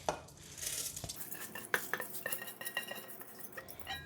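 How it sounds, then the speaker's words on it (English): Washed rice going into a cooking pot on a kitchen counter, a run of light clinks and scraping rattles of grains and metal against the pot, close and fairly quiet, with no talking. "And now we're going to put the rice that we washed in the pot."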